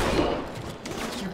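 SMG fire in the video game Halo 2, a short dense burst of rapid automatic shots with a clattering, continuous texture.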